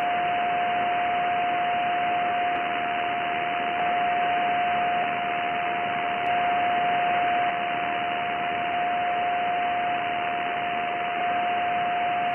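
Malachite DSP shortwave receiver tuned to the 80 m band near 3.6 MHz, giving a steady hiss of band-limited noise with a constant tone running through it, continuous and fairly loud without any voices.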